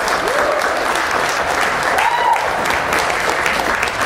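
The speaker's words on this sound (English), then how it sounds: "So if you don't mind, a round of applause for Praj White" Audience applause at a local community event, honoring a civil engineer from Manhard Consulting; steady, dense clapping fills the room throughout, with faint voices mixed in.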